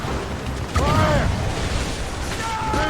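Ship cannons firing during a naval battle in Assassin's Creed Rogue, with several booming blasts over constant wind, sea and combat noise, mixed with shouting voices.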